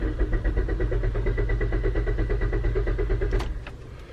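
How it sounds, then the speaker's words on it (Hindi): An engine-driven car parked in Ooty that is failing to start gives a steady rapid chugging mechanical drone, loud and close, which fades out near the end with a couple of brief clicks. "मेरा कार शुरू नहीं हो रहा है।"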